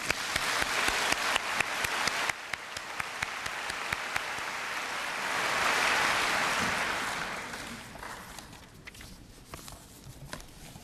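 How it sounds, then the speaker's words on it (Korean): An audience at an evening missionary report in a church gathering claps together, a dense patter of hands that swells, then gradually thins and fades toward the end, with no voices over it. "그 하나님께 우리 한번 박수 돌려드립니다."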